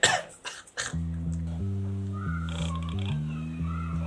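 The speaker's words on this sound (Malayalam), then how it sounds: "ഇവരെന്തോ ഇന്നലെ രാത്രി തുടങ്ങി ഭയങ്കര ചുമ" A person coughs in a few quick harsh bursts at the start, then a steady tonal hum with stepping pitches carries on, as in a comedy short film scene.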